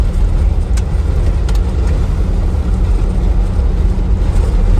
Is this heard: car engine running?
yes